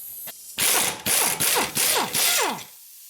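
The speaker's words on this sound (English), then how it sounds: "So now we're gonna remove the sway bar link nut." Rapid clicking bursts of a hand ratchet loosening the sway bar link nut on a Ford Freestyle's front suspension, several separate close bursts with short pauses between strokes.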